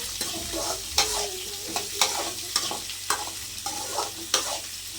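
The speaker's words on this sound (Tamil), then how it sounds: "நல்லா கொஞ்சம் வெங்காயத்தை மட்டும் கொட்டிப்போம்" Onions frying in a pan for chutney, a soft steady sizzle broken by regular scraping knocks of a spoon stirring about once a second, close and fairly quiet with no talk.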